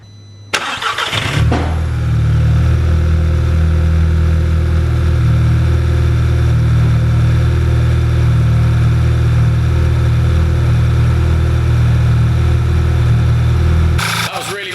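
A rebuilt Audi TT engine starts up and settles into a steady, loud idle with a deep low rumble that holds evenly until it cuts off near the end.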